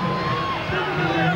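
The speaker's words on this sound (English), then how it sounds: "Crowd baying for the referee to blow the final whistle." A football crowd at Halifax Town against West Brom in an FA Cup first-round match bays and roars for the final whistle, a dense, sustained mass of voices with scattered whistles.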